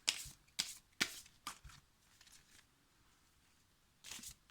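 Tarot-style energy healing cards are shuffled up close in quick riffled bursts, several crisp flurries early on, then a quiet lull before one last shuffle.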